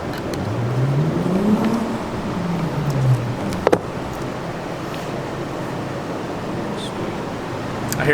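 A car drives past outdoors, its engine rising and falling in a loud sweeping roar that fades away, followed by a sharp clack and steady wind-like background noise.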